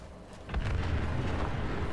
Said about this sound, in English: Make a lot of explosions.